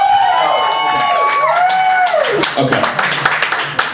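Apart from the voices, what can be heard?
comedy club audience applause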